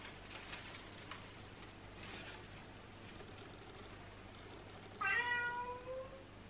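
A contented house cat gives a single clear, close meow near the end, following several seconds of quiet room tone with faint soft rustling.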